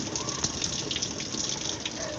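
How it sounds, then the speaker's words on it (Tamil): Water draining out of a washing machine outlet hose, a steady close rushing gush that flows continuously with no talk over it. "தண்ணி அவுட்ருலேயும் வெளியே போகுது."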